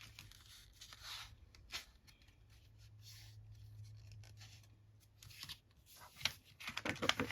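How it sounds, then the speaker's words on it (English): A large vintage book page being folded up from the bottom, giving soft, close paper rustles and creases in scattered bursts over a low steady hum, with livelier crinkling near the end. "And then we'll fold up from the bottom."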